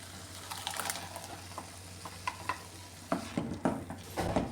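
Ground coconut for Kerala pazham pulissery is stirred and heated in a pan, with soft frying crackle beneath irregular scraping strokes and a few sharper taps of the spoon, close and fairly quiet.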